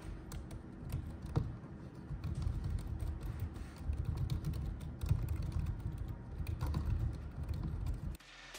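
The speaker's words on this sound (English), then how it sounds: "The keyboard has soft-sounding keys as well." Soft-sounding keys of a Dell Inspiron 27 7710 all-in-one keyboard are typed on, giving quiet, steady, close-up tapping and clicking with a few sharper key strikes.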